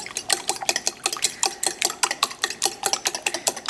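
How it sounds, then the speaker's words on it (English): Eggs with vanilla essence are whisked lightly in a bowl, giving rapid rhythmic metallic clicks and taps in quick, even succession, close and clear with no talking. "we're going to just whisk this up just lightly"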